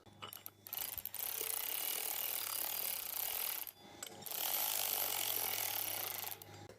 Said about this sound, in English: Let me get a socket. Probably use this baby to run them down.